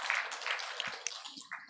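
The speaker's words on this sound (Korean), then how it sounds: "하나님께 영광의 박수 올려드리겠습니다" A church congregation at a Wednesday worship service claps together in praise, a brief steady patter of many hands at moderate distance with no talking.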